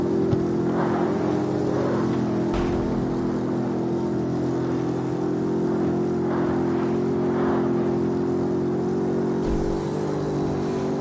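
A car engine with nitrous and short gearing in CarX Street roars steadily with a strong harmonic drone, and brief low thumps mark what sound like gear shifts.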